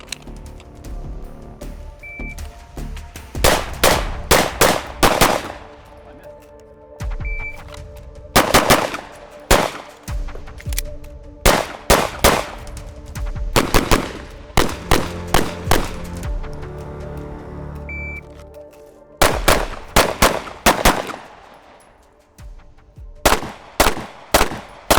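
A Shadow Systems XR920 pistol fires in quick strings of sharp, loud shots at close range, several bursts separated by short pauses, with no talking.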